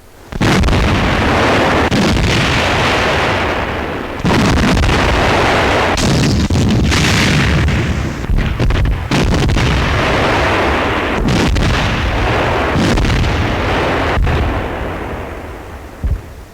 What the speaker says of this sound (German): Artillerie zerschlägt die erkannte Feindgruppe.